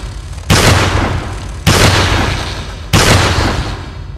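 Three loud, booming shotgun blasts from the Striker weapon in Resident Evil 4 on the Wii, each sharp report decaying over about a second with evenly spaced gaps between shots.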